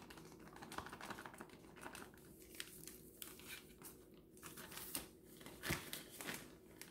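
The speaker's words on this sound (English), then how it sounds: "So I'm going to sift about half a bag." Powdered sugar is sifted for homemade fondant, giving quiet, rapid, repeated clicking and scratchy strokes close by, with no talking.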